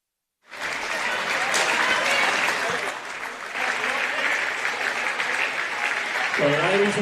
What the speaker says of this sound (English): please keep the applause going and show your appreciation to these two sides